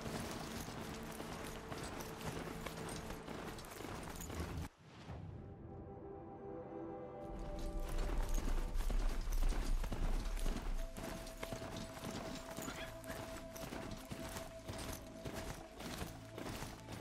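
Horse hooves clip-clop steadily in the video game Horizon Zero Dawn, a galloping rhythm over game music that drops out briefly before a louder rumbling passage, with no voices.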